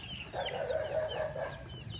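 Several chickens, some sick with fowlpox, clucking in a steady murmur close by, with a low background hum throughout.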